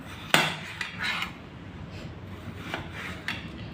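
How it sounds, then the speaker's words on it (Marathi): A knife chops potatoes on a board in a home kitchen, making a few sharp, separate knocks, one loud near hit followed by softer taps spread out, with no talking. "त्याच्यामुळे आता बटाटे चिरून घेते मी छान।"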